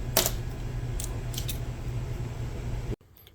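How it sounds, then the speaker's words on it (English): A tube for a drive shaft is cut, with a steady, loud grinding rasp over a low hum and a few sharp bright scrapes before it stops abruptly near the end. "let's cut the tube."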